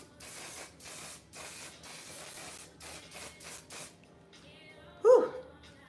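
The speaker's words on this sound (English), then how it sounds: "when you apply this spray right here" Several short, sharp bursts of a pump spray in quick succession, close by, followed by a pause and a brief exhaled sound.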